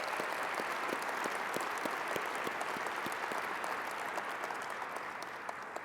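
A gala banquet audience gives a round of applause for FCC staff at an awards dinner. The clapping is steady and evenly spread throughout, fairly quiet and distant.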